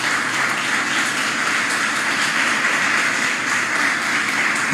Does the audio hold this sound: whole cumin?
no